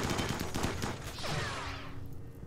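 Dense gunfire and grenade blasts from a RimWorld battle, a loud continuous barrage of rapid shots with a few bursts layered over a steady roar, sustained throughout.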